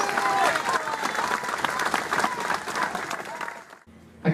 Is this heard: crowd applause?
yes